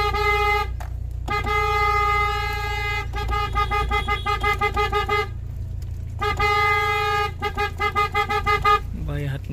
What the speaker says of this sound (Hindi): और इन गाड़ियों की स्पीड भी काफ़ी फास्ट है